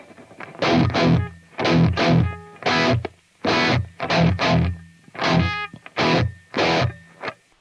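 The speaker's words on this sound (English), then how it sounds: "So now if I play the guitar, it sounds like this." Distorted electric guitar strummed in short, loud chord bursts with brief gaps between them, played up close with no voices.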